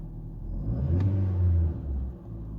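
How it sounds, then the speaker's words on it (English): A Ford Fiesta 1.4 petrol engine, just after a cold start and being checked for an intermittent bad idle, gets a short rev from idle, its hum swelling to a steady higher pitch before dropping back to idle. "Give it a little rev."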